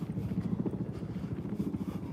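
A helicopter flies over a Russian seaside town, its rotor giving a steady low throbbing chop, moderately loud and continuous throughout.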